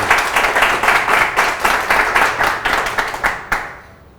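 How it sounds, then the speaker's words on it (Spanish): An audience applauds to welcome speakers onto a tech panel about Python, a dense, steady wash of clapping that carries for about three and a half seconds before quickly fading away. "Bueno, un aplauso para ellos, bienvenidos y muchas gracias."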